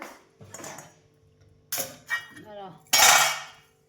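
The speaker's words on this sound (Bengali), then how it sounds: "এই খেয়ে দিয়ে সে বাসন টাসন সব ধুয়ে ফেললাম" Dishes, pots and utensils being washed at home clatter in separate bursts: metal clinks, a ringing scrape and a loud final clatter with splashing, close by in an otherwise quiet room.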